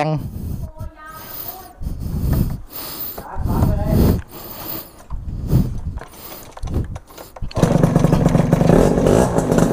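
A BMW GS1200 motorcycle being ridden, its engine revving and dropping in repeated surges, close and loud, then a steady rushing roar at speed toward the end.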